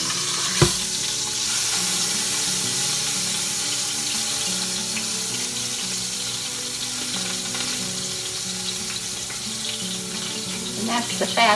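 Pork frying and sizzling in an Instant Pot, a steady crackling hiss that runs continuously and fairly loud from start to finish, with a brief clatter near the beginning.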